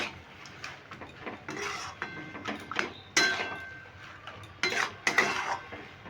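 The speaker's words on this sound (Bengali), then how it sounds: "এবার ধনে পাতা আর গরম মশলাটা দিয়েও ভালো করে নেড়ে নেব" A spoon scraping and clinking against a pan while vegetarian cabbage curry with coriander leaves and garam masala is stirred, irregular close metallic knocks and scrapes with quiet pauses between.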